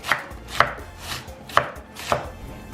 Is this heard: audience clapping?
no